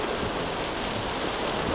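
Heavy rain and a storm beat down during a road trip on the Trans-Sumatra route past Betung toward Jambi, a dense, steady hiss of downpour with no voices.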